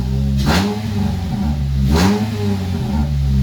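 A 2004 Nissan Sentra Spec V with a swapped JDM engine revs twice from a steady idle, each blip rising sharply then falling back, loud and close with no speech.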